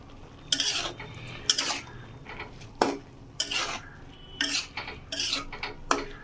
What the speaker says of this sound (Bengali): হলুদ, দিয়ে ভালো করে নাড়িয়ে এটাকে নামিয়ে নেব।